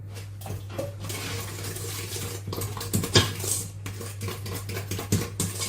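Ingredients tipped into a mixing bowl for a farmer cake, giving a few clinks and soft knocks of bowl and utensils against a steady low hum, with one sharper clatter near the middle and no talk.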